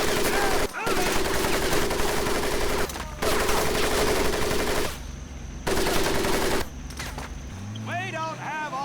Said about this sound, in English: If you get caught in that fire, I will leave you here!